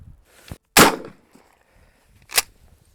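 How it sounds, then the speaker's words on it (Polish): Two sharp gunshot cracks, the first loud and the second a bit more than a second and a half later, with a faint click before them. "Czysty strzał"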